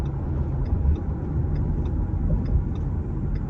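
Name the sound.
Ford Mustang S550 accelerating in traffic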